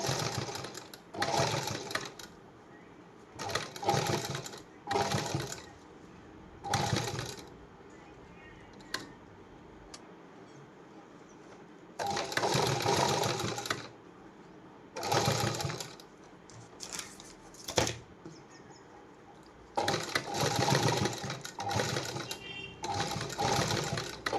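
A sewing machine stitches beaded lace onto a blouse in repeated rapid bursts of close, whirring needle noise, separated by short pauses.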